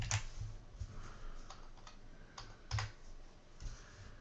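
Keys clatter on a computer keyboard as a username is typed at a lab login screen, a quick irregular run of close, crisp clicks with brief pauses between bursts.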